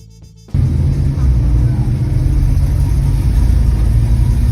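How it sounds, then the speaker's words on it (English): A 1968 Pontiac GTO Ram Air II muscle car engine bursts into a loud, deep, steady rumble after a brief quiet moment, holding a heavy idle-like roar close up. "1968 Pontiac GTO Ram Air 2."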